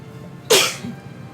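One sharp, loud sneeze bursts out near the microphone, a single brief explosive burst over a quiet room.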